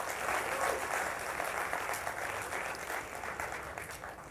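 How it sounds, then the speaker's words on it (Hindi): An audience claps for the production team at a live talk event, a continuous, fairly faint wash of applause that fades slightly toward the end, with no speech over it. "एक बार जोरदार तालियां बजाइए पूरी टीम के लिए"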